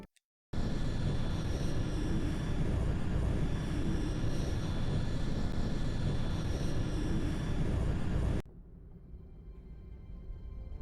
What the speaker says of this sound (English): Why does the jump sound louder than an actual airplane?